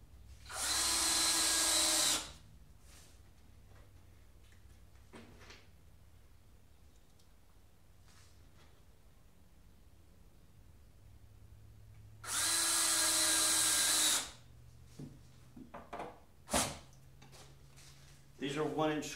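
A power drill drives 1-inch screws through pallet pickets on a landscaping fence, two loud whirring bursts separated by a long quiet gap, followed by a few softer clicks and handling noises.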